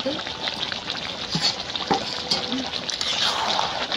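Chicken fries in a pan with a steady, loud sizzle throughout, broken by occasional scraping and clinking as it is stirred up close.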